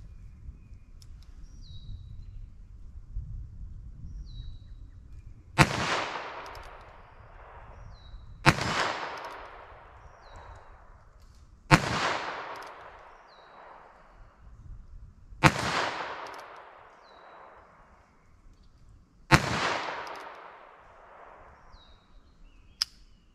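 Six sharp gunshots from .22 Magnum rounds are fired at a steel plate during a ballistic test outdoors, spaced a few seconds apart, each a loud crack with a fading echo and faint background chirps between shots.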